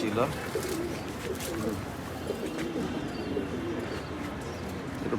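Tournament racing pigeons, male and female birds in a loft, keep up a low continuous cooing throughout, with someone talking intermittently over the birds.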